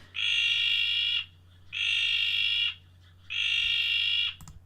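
A frog gives loud, shrill shrieks: three sustained calls of about a second each, separated by short pauses, close and clear with no talk.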